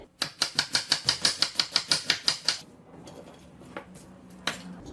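Knife chopping an onion on a cutting board, a rapid even series of about fourteen crisp taps close by, followed by quieter scraping and one last sharp knock.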